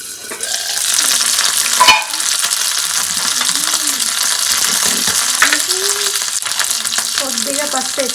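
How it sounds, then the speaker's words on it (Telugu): Mustard seeds and curry leaves crackle and sizzle in hot oil for a tempering in a pan, a loud continuous frying hiss with sharp pops and occasional stirring scrapes. "ఇప్పుడు కొద్దిగా పోపు గింజలు కరివేపాకు అయితే వేసుకుంటున్నాను"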